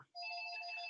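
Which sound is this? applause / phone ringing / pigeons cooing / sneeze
phone ringing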